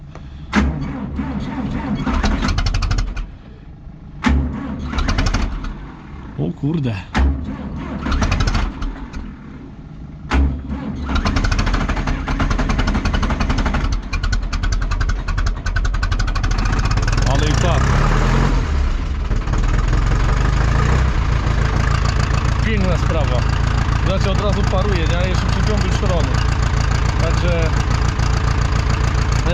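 A Fendt 60 tractor's diesel engine turns over amid choppy bursts, then catches and settles into a loud, steady idle that runs to the end, with someone speaking briefly early on.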